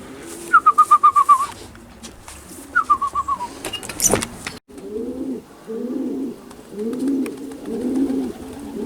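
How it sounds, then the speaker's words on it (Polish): Racing pigeons coo in short rhythmic bursts, two runs of soft repeated notes, followed by a fluttering clatter and then steady low murmuring cooing. "no jest trzeci gołąb"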